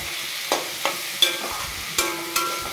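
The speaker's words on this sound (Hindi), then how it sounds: "मैं इसे चला के फ्राई करती रहूँगी ताकि नीचे चिपक ना जाए" Potatoes and spinach are stirred and fried in a pan, with a soft continuous sizzle broken by about six sharp scraping knocks of a spoon against the pan at irregular intervals.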